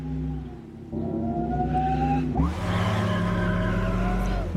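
In the racing game Test Drive Unlimited Solar Crown, a car engine makes odd bubbling, droplet-like noises: a loud, continuous engine drone with sliding, wavering pitch and a sudden shift partway through, with no talking.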